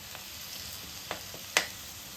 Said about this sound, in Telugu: ఆయిల్లో ఒక్క నిమిషం ఈ కారం అట్లా ఫ్రై అవ్వనివ్వండి